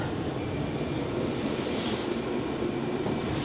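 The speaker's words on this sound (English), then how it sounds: "We're on the train home." A train rides home from Largs through wind and pouring rain, heard from inside the carriage as a steady low rumble with broadband noise that holds even and continuous throughout.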